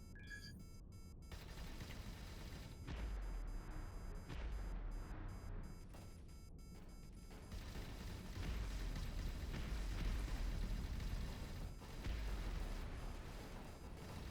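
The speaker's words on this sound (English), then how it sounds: "We're shooting torpedoes at me already." Torpedoes exploding in the space game Avorion: heavy, booming detonations swell into a continuous rumble of blasts. The explosions are loud and overlapping, with no pauses and no voices.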